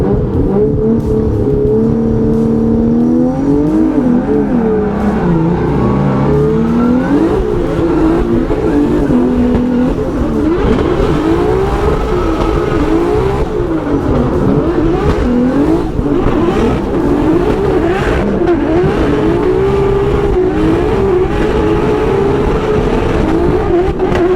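Formula Drift cars running in tandem, with Manoa out front and Adam LZ chasing in an E36, engines revving hard and continuously. Loud, close, sustained engine roar with constant pitch swings as the throttle works, and no talking.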